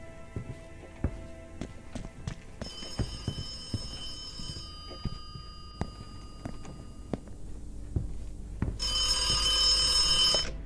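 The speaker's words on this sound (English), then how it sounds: "She wants to talk to us from a public payphone." A public payphone rings in the stealth game The Occupation, its repeated electronic bell bursts ringing out near and loud over intermittent footsteps and clicks.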